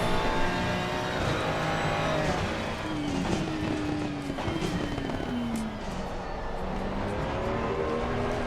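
Race car engine in Assetto Corsa Competizione at Bathurst, a continuous loud drone with shifting pitch as revs rise and fall, plus brief sharp crackles over the top.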